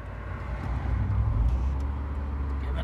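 An NA Mazda Miata is driven hard, its engine a steady low rumble that swells slightly midway and holds on, with no talk over it.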